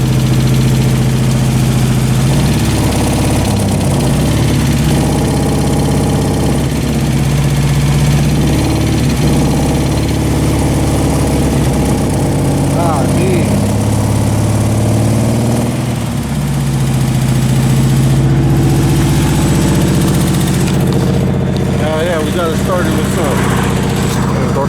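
A Nissan 300ZX engine idling steadily and fairly loud throughout, with a low continuous drone that wavers slightly, while people talk over it.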